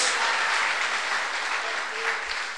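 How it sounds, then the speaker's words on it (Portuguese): A church congregation breaks into sustained applause, a dense, steady wash of many hands clapping together with no let-up, heard fairly close and without distinct voices. "Dá uma salva de palmas ao Senhor."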